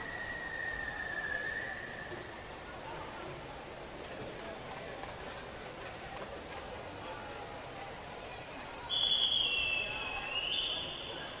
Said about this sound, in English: the whistle doesn't quite sound right for the official at the moment